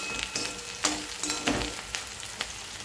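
Onion, green chilli and curry leaves frying in oil for kanda poha, a close, steady sizzle with intermittent crackles and the scrape of stirring, no talk.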